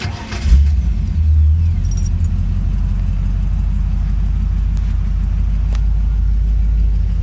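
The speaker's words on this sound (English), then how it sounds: "so we'll go ahead and start it up here" A 1954 Ford Mainline business coupe hot rod with a 5-speed fires up after a brief crank, then settles into a loud, steady, deep idle rumble right up close.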